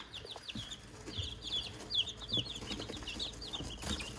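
Chickens and baby chicks on a small homestead farm, with repeated short clucks and chirps scattered across a few seconds, moderately close and no talking.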